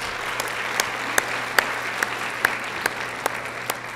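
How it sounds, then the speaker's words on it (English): An audience at a Baldwin Park State of the City address applauds a performer, a steady wash of clapping with sharp louder claps standing out at a regular beat, continuous throughout. "Let's give him a round of applause"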